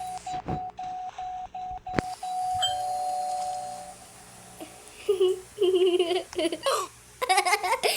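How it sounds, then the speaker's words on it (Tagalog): A two-tone doorbell chime rings with a sustained electronic tone, followed by a burst of laughter and lively voices up close. "doorbell ko kaya."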